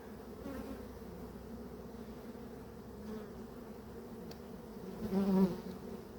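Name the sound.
honey bees buzzing around a hive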